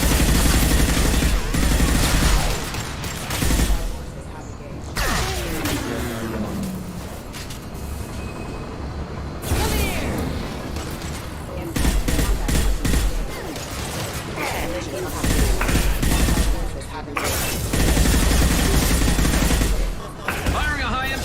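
Combat in Mass Effect 2 Legendary Edition with bursts of loud gunfire coming in waves, broken by quieter stretches of battle rumble and mechanical noise before another heavy volley.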